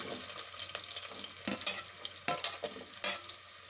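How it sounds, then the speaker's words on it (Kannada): Chopped large onion frying in a pan for a potato and chickpea sambar, with soft sizzling and intermittent stirring scrapes and taps, close and fairly quiet. "ಒಂದು ದೊಡ್ಡ ಈರುಳ್ಳಿನ ಇದಕ್ಕೆ ಹಾಕ್ತೀನಿ."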